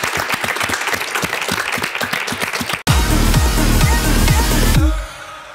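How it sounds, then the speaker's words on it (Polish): A studio crowd applauds a coach on a coaching competition show, with dense, even clapping for under three seconds before an abrupt cut to loud music. "Brawa dla trenera."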